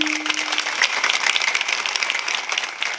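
An audience at a kirtan bursts into clapping, a brisk, dense round of applause from many hands close by, steady for a few seconds before thinning slightly at the end.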